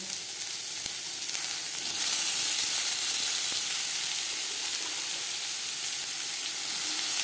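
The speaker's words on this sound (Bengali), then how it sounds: "সবার প্রথমে আমি পেঁয়াজ ভেজে নেবো" Onions frying in a small amount of oil, a steady bright sizzle and hiss heard close up, even and unbroken with a few faint knocks, no voices.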